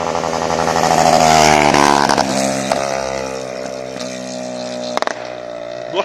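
A Yamaha MT-09 motorcycle engine roars close by while descending a mountain road, revving high and then easing off as it winds down, with sharp pops near the end.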